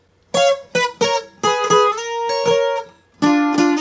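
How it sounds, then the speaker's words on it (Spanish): A requinto guitar plays the opening riff of a song, with several quick plucked notes followed by a sustained ringing note and then a final strummed accent, close and clear. "entonces ese requinto desde el principio va así."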